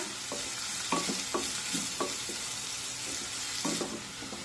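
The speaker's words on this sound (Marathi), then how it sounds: "आता हा कांदा छान मऊ होईपर्यंत परतून घेऊया" Onion sautéing in a pan for a potato curry, with a steady sizzle and frying hiss broken by repeated scraping strokes of a spatula, close and clear, with no voices.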